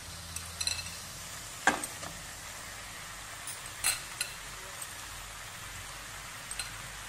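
Goan-style minced meat for potato chops fries in a hot pan with a soft, steady sizzle, punctuated by occasional clinks and scrapes of stirring, fairly quiet and close.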